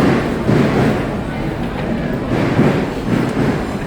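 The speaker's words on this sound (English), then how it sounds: "Can you hear the train above us?" A train rumbles overhead at a London food market, a continuous heavy roar with faint rhythmic clatter, under busy crowd noise and nearby talk.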